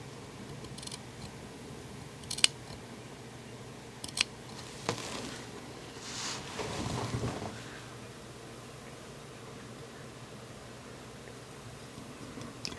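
A handful of crisp scissor snips, spaced apart, clip the curved fabric seam allowance of a neck facing in a quiet room, with soft rustling between them.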